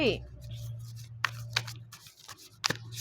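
Tarot cards are shuffled and flipped by hand in short crisp bursts of papery snaps and rustles, with someone talking throughout over a steady low hum.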